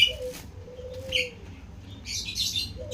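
Birds chirp loudly outdoors in quick bright bursts and trills, several overlapping calls close by over a low steady background rumble.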